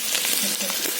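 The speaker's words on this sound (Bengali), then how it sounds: "আলুগুলো কিন্তু আমরা বয়েল করে ফ্রাই করে নিচ্ছি" Boiled potatoes frying in a pan, a continuous crackling sizzle with small bubbling pops, close and even throughout.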